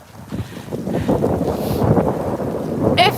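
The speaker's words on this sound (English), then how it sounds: "Oh, it is so windy here." Strong cold wind gusts outdoors on a city avenue, buffeting the microphone in a loud, rumbling roar that swells and holds for a few seconds.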